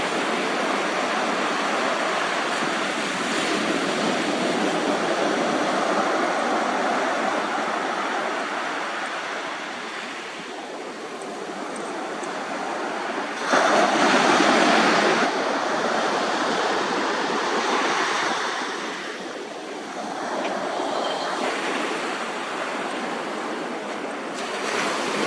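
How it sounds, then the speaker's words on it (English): Ocean waves break at a point in a steady, roaring wash of surf, with a louder crash swelling midway and the rush continuing throughout, close and dense with no voices. "this shows quite a different contrast with the waves breaking like that."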